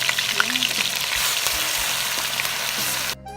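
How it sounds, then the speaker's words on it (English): Ginger sizzles and fries steadily in hot groundnut oil, a continuous dense crackle with occasional pops and faint stirring, close and even throughout before cutting off abruptly at the end. "Add the 100 grams of ginger."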